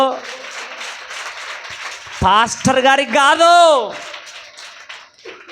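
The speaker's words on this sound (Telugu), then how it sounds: "కొట్టు గట్టిగా చప్పట్లు." A church congregation claps steadily throughout a worship service, a soft continuous patter that runs beneath a preacher's loud, sing-song speech.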